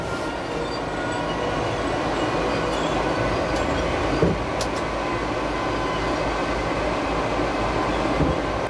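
An RhB Glacier Express train running along the Rhine valley line toward Chur after Disentis, a loud steady rumble of wheels and carriages with faint rail clicks and occasional squeal.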